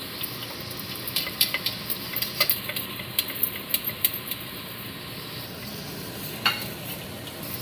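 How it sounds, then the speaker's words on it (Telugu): Spicy Andhra village-style egg, brinjal and drumstick curry with fried eggs and fried dried fish being stirred in: soft sizzling under scattered spoon scrapes and taps against the pan, close and fairly quiet. "మళ్ళీ వేయించిన ఎగ్స్ ఉన్నాయి కదా, అవి వేసుకోవాలి ఇందులో. వేయించిన ఎండు చేపలు కూడా వేసేసుకోవాలి ఇందులోనే."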